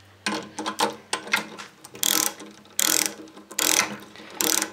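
A 1/2 inch drive ratchet tightens bolts on a homemade output shaft fitted to a centrifugal clutch. Rapid clicking bursts come close and loud, with pauses between strokes and no talk.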